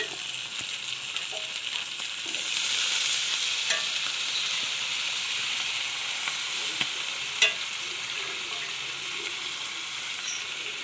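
Pork and beef skin cooking in broth in a pan give a steady, close bubbling sizzle with occasional faint stirring clicks and no talk.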